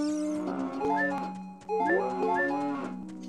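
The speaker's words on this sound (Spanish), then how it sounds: "Una vaca." A cow in the video game Zelda: Ocarina of Time lets out two loud, drawn-out moos with a short pause between them, heard alone and close.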